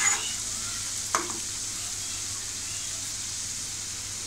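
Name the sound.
sautéing onion and tomato with masala in a pan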